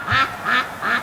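Ducks being raised for charity quack three times in an even rhythm, close, loud and alone on a hot, windy day.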